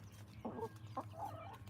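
Backyard chickens clucking nearby in short, soft bursts over a low steady hum, faint and close with no talking.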